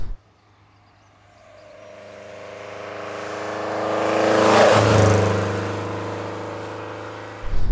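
A 1976 Lancia Fulvia's 1300cc V4 engine revs up from idle, climbing smoothly to a loud peak near the middle before easing back, with a strong rising and falling whir heard close and alone.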